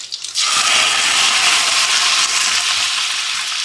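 Mustard seeds and curry leaves hit hot oil in a kadai, bursting into a loud, dense sizzle and splatter that holds steady and close throughout, with no voices.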